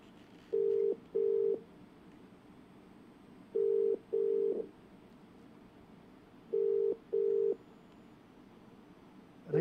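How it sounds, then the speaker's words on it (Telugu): Outgoing telephone ringback tone on a call to an MLA's phone: three pairs of short double rings separated by quiet gaps, clear and moderately loud with no talking. "ఆ ఫోన్ రింగ్ అవుతూ ఉంది."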